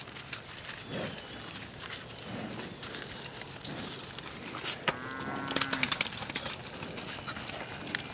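Cows in a new pasture mooing from different distances, a clear low call near the middle with a few shorter calls, set against outdoor noise with birds cooing faintly in the background.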